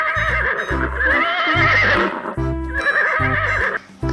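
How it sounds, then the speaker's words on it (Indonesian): A white toy horse gives a loud electronic neigh and whinny over a looping clip-clop hoofbeat rhythm, playing continuously and close up with no talking. "Wow, ada kuda putih."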